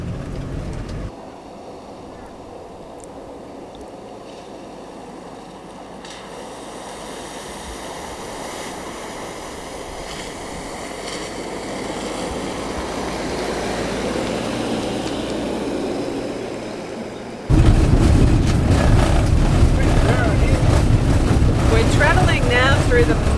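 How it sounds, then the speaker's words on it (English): A 4x4 Sprinter van rolls through a concrete river ford, a steady rumble and rushing water that builds gradually, then turns into a louder, closer splashing wash near the end, with voices talking at times. "This is an easy river crossing because it's a concrete ford."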